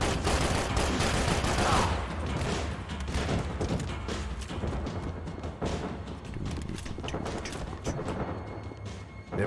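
Dense, sustained automatic gunfire and bullet impacts in the video game Max Payne 3, loud and continuous throughout with rapid overlapping bursts and crashes.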